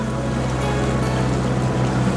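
A sailboat motoring on the sea under engine power in light wind, with a steady low engine drone and continuous rushing water and hull wash, fairly loud and unbroken with no talk.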